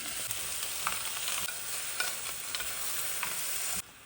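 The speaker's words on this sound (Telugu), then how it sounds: "నెక్స్ట్ టమాటాలు వేస్తున్నానండి. దోసకాయలు కూడా వేసేస్తున్నాను." Tomatoes and cucumber added to a frying pan for a home-grown okra curry: a continuous soft sizzle with light stirring and scraping, fairly quiet and close, no voices.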